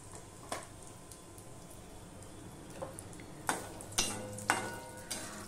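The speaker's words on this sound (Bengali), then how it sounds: "এবার আমি এখানে কালো জিরে ফোড়ন দিয়ে দিলাম।" Black cumin seeds tempering in hot oil in a wok, a faint low crackle with a few sharp ticks and pops near the end.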